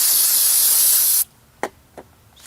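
Starter fluid sprayed from an aerosol can onto an engine oil pan during an Audi Q7 3.6 VR6 rebuild: a loud, steady hiss lasting over a second, then abrupt silence and two faint clicks.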